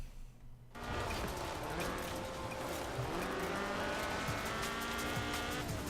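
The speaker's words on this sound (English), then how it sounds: "This was a car designed explicitly for rallying, with a powerful fuel-injected 1790cc Cosworth BDE engine." A rally car with a fuel-injected 1790cc Cosworth BDE engine in Forza Horizon 4 starts up loudly after a brief quiet moment, then holds a steady, close engine roar with tire noise as it corners.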